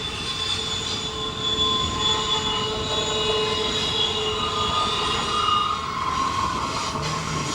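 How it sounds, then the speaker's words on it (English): Three BNSF locomotives haul a container train through Cajon Pass, a steady distant rumble with rolling wheel noise and faint high squeals, heard alone with no voices. "we see 3 BNSF locomotives moving into Cajon Pass with foreign and domestic containers"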